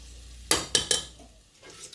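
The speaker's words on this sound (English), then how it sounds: "You just want to just stir it as you go along to just get all your pieces nice and" Utensil stirring chicken pieces in a pan to coat them, three sharp scraping clinks in quick succession followed by faint settling and a soft final scrape, close and alone.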